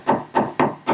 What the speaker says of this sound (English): I'm going to tap down around it just to relax a little bit.